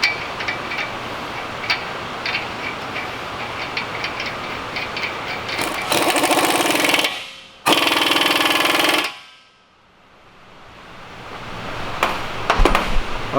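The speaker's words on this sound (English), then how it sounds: "I'll go ahead and put this nut back in here with my impact driver" An impact driver runs a nut onto the wheel hub of a 2011 Honda Accord during a wheel bearing job, two loud rattling bursts of a few seconds each close up, following softer clanking workshop handling and ending in a fading whir.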